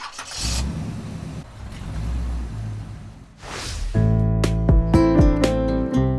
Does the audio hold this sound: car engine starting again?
yes